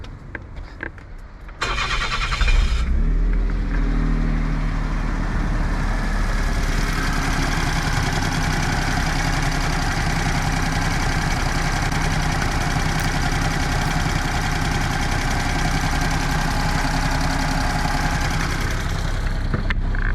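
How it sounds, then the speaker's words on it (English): A Suzuki Wagon R engine cranks briefly and catches after a second or two, then settles into a steady, even idle that runs on alone and close by. "Now let's give it a quick start."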